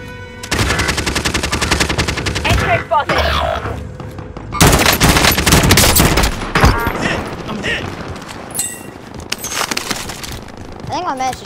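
Rapid automatic gunfire and bursts of machine-gun fire from the Warzone video game during a live event, loud and dense in two long volleys with scattered single shots, with voices faintly mixed in.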